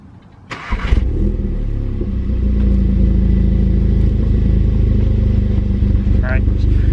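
An Audi S3/Golf R fitted with an AWE Switchpath exhaust valve system fires up with a loud crank and catch, then settles into a deep, steady, rumbling idle that swells slightly and holds close and loud.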